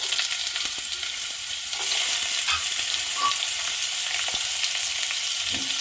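Chopped mango stirred through hot mustard oil with mustard seeds and dried red chillies, giving a steady close sizzle with occasional spatula scrapes and soft pops, no voices.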